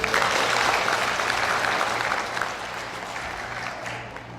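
Steady, dense applause from a sizable audience, loud at first and tapering slightly toward the end.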